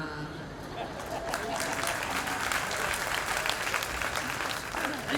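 Audience applause at a spiritual discourse: dense, steady clapping that fills the whole stretch at a fairly even loudness, with a voice faintly underneath.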